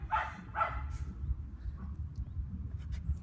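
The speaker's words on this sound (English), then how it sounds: "apologies about the dogs barking, but I am in a park" A dog gives two or three sharp barks close by in a park, then falls quiet over a low outdoor rumble with faint distant sounds.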